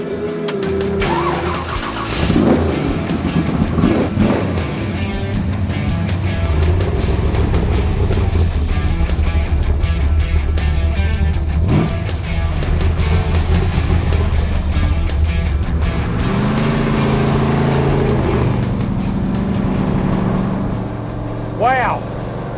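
A big block Chevy powered Holden Torana muscle car with a nitrous bottle out and road tyres on drives along, its loud, deep engine droning continuously and rising and falling with throttle.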